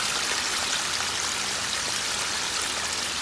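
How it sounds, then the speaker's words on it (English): Fried green tomatoes sizzle in a pan, a steady, even hiss of frying oil that fills the short stretch with no pauses. "Then these fried green tomatoes, just let them cook."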